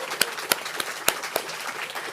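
Brief applause for a panel at a hospitality leadership forum: a light, sparse scatter of claps with a few sharper hits, fairly quiet and distant-sounding.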